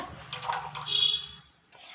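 Dissolved jaggery syrup poured into a freshly washed kadai, a short liquid splash and trickle lasting about a second that fades out, close and alone.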